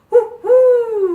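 A voice in a children's song about little owls imitates owl hooting with two loud, close hoots, a short one followed by a longer, slowly falling one.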